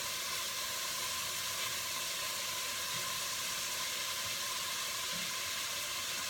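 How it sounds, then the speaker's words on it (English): Steady broadband sizzle of vegetables sautéing in a stock pot, a continuous hiss that stays level throughout, close and fairly loud with no talk. "allowing the vegetables to really saute and take a moment to soften just a bit"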